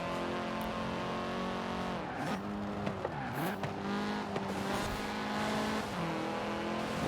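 Racing engines in Forza Horizon 4, with a Mitsubishi Starion chasing a Range Rover: a steady droning exhaust note rising and dipping through gear changes, with brief tire squeals, continuous and close.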